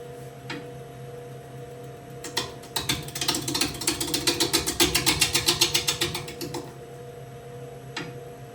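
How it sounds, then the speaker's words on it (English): A wood lathe holding a bowl blank ramps up to high speed, a rapid rattling mechanical pulsing that builds and quickens before cutting off, alone with no talking. "I'm holding my hand on the headstock of the lathe as I ramp up the RPMs so I can feel for vibration"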